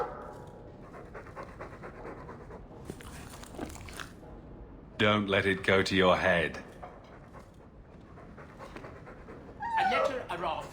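A dog in Dragon Age 2 panting in quick rhythmic breaths, close and soft, with someone talking over it partway through.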